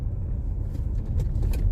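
Steady low engine and road rumble from inside a moving car, continuous and fairly loud throughout, with no talking.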